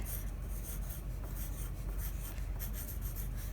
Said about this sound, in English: I'm going to write my name and my room number on the back.